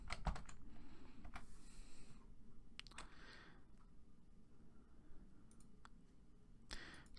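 Typing on a computer keyboard, a short run of soft close key clicks and taps with pauses between bursts, quiet against a low room hum.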